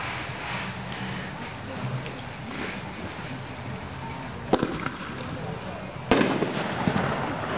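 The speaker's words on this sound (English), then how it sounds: "This next one is going to be our new Gold Willows. They're single shots in our 76 Pro line." Two Gold Willow single-shot firework tubes from the 76 Pro line fire outdoors, each giving a sharp launch thump and a crackling burst against steady crowd and wind noise, with people talking faintly.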